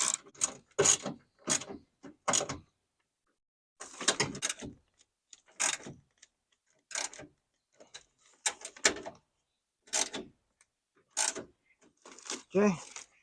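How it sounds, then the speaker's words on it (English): Bolts being tightened on a Honda Element power window regulator, a series of short sharp ratchet clicks in bursts separated by silences, close and distinct. "got those three bolts in there, so let's tighten those up."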